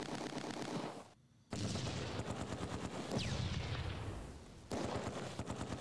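Gunfire in the Close Combat 2 video game aimed at a Panzerschreck anti-tank team at Arnhem Bridge: dense, continuous machine-gun rattle and rifle shots with heavy booms, broken by one brief lull.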